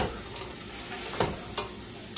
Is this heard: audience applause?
no